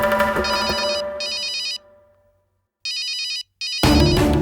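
A mobile phone rings with an incoming call, bursts of a bright electronic ringtone pattern separated by short gaps, following louder dramatic music in a Tamil television serial scene.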